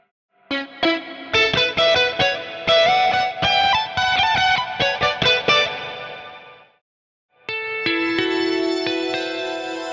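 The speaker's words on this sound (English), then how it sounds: "This is a really interesting, like, shimmer reverb sound." A distorted guitar arpeggio riff steps up and down in pitch through a shimmer reverb effect in Ableton Live, loud and close, then a sustained shimmering chord swells after a brief gap.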